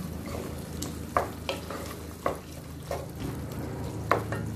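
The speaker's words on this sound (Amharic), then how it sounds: "እንደዚህ ካሮቱን ከጠበስኩኝ በኋላ የዶሮን ፍሌ እጨምራለሁ ማለት ነው።" Carrots and chicken fillet fry in a pan for Ethiopian doro fitifit, a steady close sizzle broken by a few sharper stirring scrapes.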